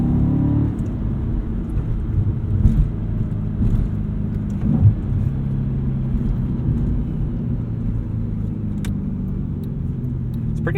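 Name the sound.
2007 Audi RS4 engine while heel-toe downshifting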